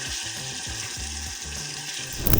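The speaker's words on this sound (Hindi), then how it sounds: "ये तकरीबन सारा चिकन बोनलेस मैंने डाल दिया है, और अब इसको करते हैं अच्छे से फ्राई" Boneless chicken pieces frying in a pan for chicken cheese handi, a steady close sizzle with a rhythmic, low bubbling pulse underneath that swells louder at the very end.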